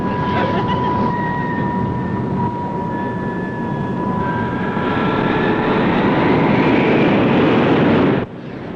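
A bus engine strains with a loud, steady droning roar and a high whine over it as the wheels spin in mud, with voices talking under the din before it drops off abruptly near the end.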